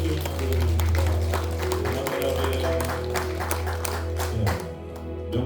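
Congregation clapping at a church revival service, rhythmic hand claps over sustained organ or keyboard chords and background voices, fairly loud and continuous before easing off near the end.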